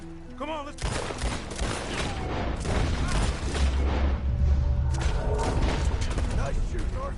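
Gunfire in a Red Dead Redemption 2 shootout at night, rapid overlapping shots and booming blasts in a sustained fusillade, with speech mixed in underneath.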